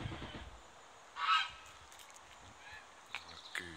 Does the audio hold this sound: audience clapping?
no